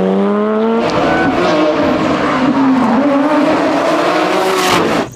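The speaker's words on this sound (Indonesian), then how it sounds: "Wow, ada mobil balap." Race car sound effect for a toy race car: a loud engine whine rising and shifting in pitch with squealing tires, steady and close throughout before cutting off abruptly at the end.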